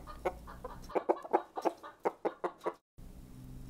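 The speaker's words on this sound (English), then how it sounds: "Chicken." A chicken clucks in a quick run of about a dozen short, sharp notes, close and fairly loud over a faint background hum, ending abruptly.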